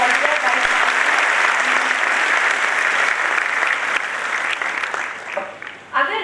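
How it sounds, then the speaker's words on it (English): Audience at a university orientation programme giving a loud round of applause for the Vice Chancellor, a dense steady clapping that thins and fades toward the end as voices begin. "we should all give a very big round of applause to our dear Vice Chancellor"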